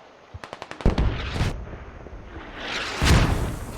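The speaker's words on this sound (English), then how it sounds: "So first mortars are going out" Mortar fire in the tactical shooter game Squad: a rapid string of sharp launch thumps, then heavier booming blasts with rumbling tails, loud and close, with no talking.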